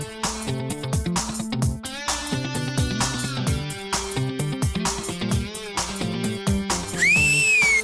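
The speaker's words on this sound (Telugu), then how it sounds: "ఈలేస్తున్నాడు చూడు" A man whistles at someone from a roadside in a city neighbourhood, a rising wolf-whistle near the end that cuts above loud, busy background music.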